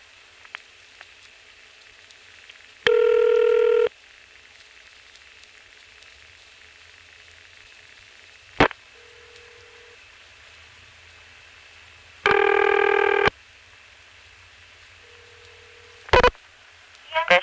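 A 1973 microphone recording of a call to 221 on a senderized step-by-step telephone exchange: two long steady tone bursts and a few sharp clicks over quiet line hiss, no voices.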